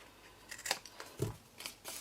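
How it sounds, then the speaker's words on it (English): A few quiet, crisp snips of scissors cutting paper, spaced irregularly over two seconds with short pauses between them. "You definitely need a long pair of scissors for this."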